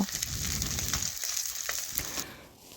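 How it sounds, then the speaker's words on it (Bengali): Fish frying in hot oil in a pan, browned on both sides, gives a soft, continuous sizzle with a few faint crackles and pops. "মাছগুলো এক পাশ ভাজা হয়ে গেলে দেখুন আর এক পাশ উল্টে আমি দুপাশে লাল লাল করে ভেজে নিয়েছি।"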